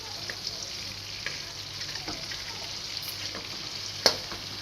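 Finely chopped garlic frying in two tablespoons of butter: a steady, even sizzle with faint stirring scrapes throughout and one sharper clack near the end.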